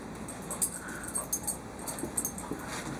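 A small dog gives soft, high, repeated whimpers in short bursts, fairly close but not loud, over a steady background hiss.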